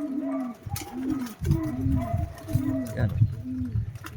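Racing pigeons coo close by in repeated soft, throaty rolling calls, one after another, while a person says a brief word over them.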